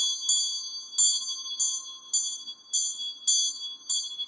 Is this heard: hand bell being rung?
yes